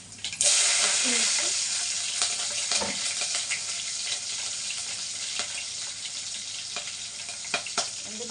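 Mustard seeds and cumin dropped into hot oil for idli tomato rasam burst into a loud, steady sizzle with scattered pops, crackling close by without pause.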